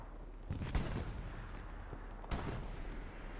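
Game gunfire from a video game match, with two sharp, prominent shots about a second and a half apart standing out over a steady wash of battle noise.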